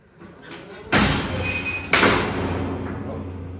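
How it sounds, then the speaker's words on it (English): An electro-hydraulic breaching tool forces a door panel out, giving two sharp metallic cracks about a second apart, each followed by a loud ringing, grinding rumble. "I'm just going to hold my advance button while allowing the tool to do all the work and pulling the door panel out"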